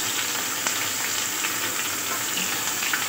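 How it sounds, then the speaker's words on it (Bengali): Chopped onion drops into hot oil already holding bay leaf and dried chilli, giving a steady, close, even frying sizzle with a few faint pops and no talk. "এখন পেঁয়াজটা দিয়ে দিতে হবে"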